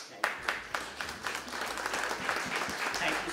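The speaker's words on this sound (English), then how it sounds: "A big round of applause." Audience applause for speakers at an academic talk on decolonizing the academy, beginning with a few separate claps and swelling into steady, dense clapping.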